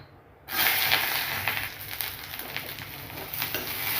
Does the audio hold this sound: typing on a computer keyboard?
no